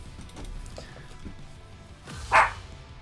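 A dog in a video game gives a single short bark near the end, loud and close, after quiet low background noise and a few faint softer sounds.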